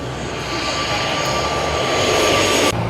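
An airliner comes in to land at Taipei Songshan Airport with a loud, close engine roar that swells and holds steadily for a few seconds, then cuts away abruptly.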